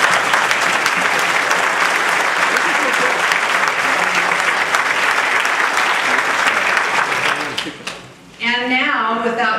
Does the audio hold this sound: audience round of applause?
yes